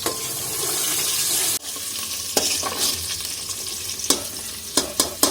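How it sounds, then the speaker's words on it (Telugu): Onions and green chillies frying in oil, a continuous loud sizzle that drops sharply as the chillies go in, followed by intermittent scraping strokes of a spoon stirring the pan. "మంచిగా రెడ్గా అయిన తర్వాత పచ్చిమిరపకాయలు వేసుకొని అవి కూడా నూనెలో మొత్తం మంచిగా గోలాలట"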